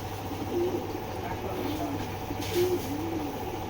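Imported foreign pigeons coo in a low, throaty rhythm, several soft rolling calls repeating close by over a steady background hum.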